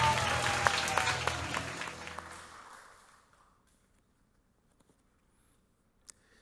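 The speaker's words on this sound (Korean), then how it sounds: "박수로 받아가겠습니다." A church congregation applauding during a Sunday morning service, a dense burst of clapping that fades away after about three seconds into near silence, with one faint click near the end.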